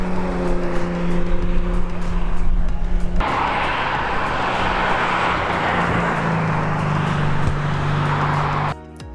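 Race cars roar around a circuit during a track day, a loud, sustained engine howl that swells as a car passes close, with engine pitch shifting and the noise dropping briefly near the end.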